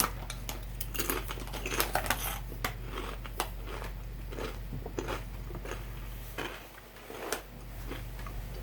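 Someone eats jalapeno-flavoured potato chips, producing a close run of sharp, irregular crunches and bites over about eight seconds. A brief pause falls near the end.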